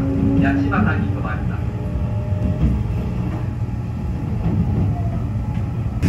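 The Shiosai No. 3 limited express train pulls away from Sakura Station with a low steady rumble and some mechanical clatter, while a voice speaks briefly near the start.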